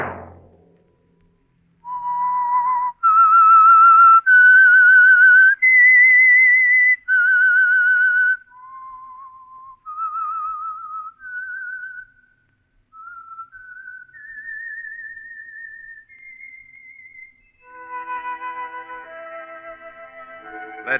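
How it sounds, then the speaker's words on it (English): A solo whistled theme tune from the 1948 radio program The Whistler: a clear, prominent melody of sustained notes rising and falling, heard alone with no other sound. "Let that whistle be your signal for the Signal Oil program, The Whistler"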